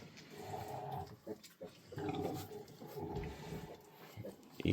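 Newborn piglets grunting and squealing close by during a sow's farrowing, a busy cluster of short rough calls with brief pauses, some soft scuffling underneath.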